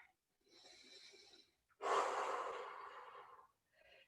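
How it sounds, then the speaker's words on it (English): A slow, deep breath is drawn in and then let out in a long, audible exhale during a yoga flow, close and soft, followed by the start of another inhale. "one more deep breath in and out here"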